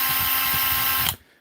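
A Makita impact driver fitted with an Impact X bit adapter runs loud and close, giving a steady high whine over low rapid hammering, then cuts off abruptly after about a second.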